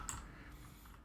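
A few soft, close computer keyboard key clicks during quiet Destiny 2 gameplay, a brief cluster of light taps at the start followed by faint clicks, all very low in level with no voice.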